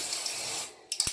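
Dry shampoo hisses from an aerosol can onto hair in one steady spray that stops abruptly, followed by a few short soft clicks.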